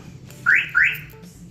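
Two short, rising electronic chirps from a Kia Picanto's keyless entry alarm, close and clear over a low background hum, the second following about a quarter second after the first.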